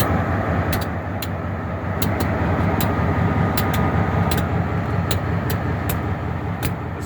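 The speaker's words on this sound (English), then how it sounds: "An old locomotive." An EMD SD38-2 diesel locomotive used for switching coal hopper cars idles with a steady low rumble, joined by a series of sharp clicking ticks at irregular intervals.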